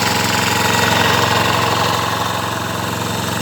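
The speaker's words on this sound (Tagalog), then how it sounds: "Yung makina." A motor engine runs close and loud in a steady, even drone with a fine rapid pulsing rhythm, unbroken for the whole stretch and alone without talk.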